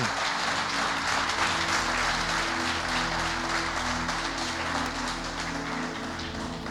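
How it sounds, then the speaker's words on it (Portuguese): A church congregation claps strongly during a sermon, a steady wash of applause over a low sustained musical drone that fades slightly toward the end. "Aplauda bem forte a ele."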